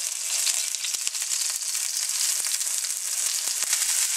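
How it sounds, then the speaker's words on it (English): Rack of lamb searing in hot oil, a loud, dense, continuous sizzle up close, broken by occasional sharp pops and crackles. "So now I'm going to saute the rack of lamb."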